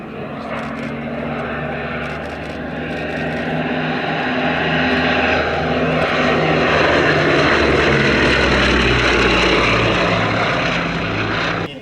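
Twin propeller engines of an eight-seat aeroplane drone loudly with a throbbing, pulsing hum, swelling as it passes close overhead at a flying display.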